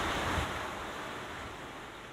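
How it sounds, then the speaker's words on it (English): Ocean waves wash onto a shore in a soft, continuous rush, with a slightly fuller swell at the start that settles into a steady, fairly faint surf hiss, with no voices. "this album finished as always with the sound of the waves"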